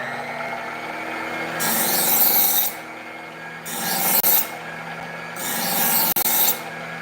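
A knife is drawn across spinning sharpening wheels in three separate passes, each a harsh, close grinding rasp lasting about a second, with a softer motor hum filling the gaps between them.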